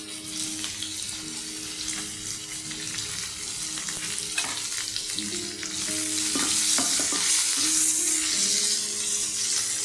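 Onion, ginger and green chili fry in melted butter and oil for chirar pulao, making a steady close sizzle broken by scraping stir strokes, growing louder and hissier in the second half.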